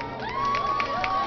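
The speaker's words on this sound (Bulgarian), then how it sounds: "Аплодисменти!" A school audience at School No. 31 cheers and applauds in a brief, lively burst. Shouts and whoops ride over a steady, dense wash of clapping from a large crowd.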